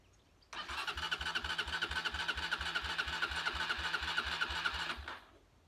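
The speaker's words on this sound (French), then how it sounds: "donner quelques coups de démarreur pour faire monter l'huile dans le haut moteur" A Honda XLR125R motorcycle engine fitted with a 150cc kit is turned over on the electric starter, a close, rapid rhythmic churning that runs continuously for about four and a half seconds and then stops, with no talking.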